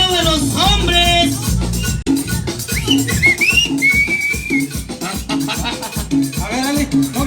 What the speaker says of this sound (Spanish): El chiflido de los hombres.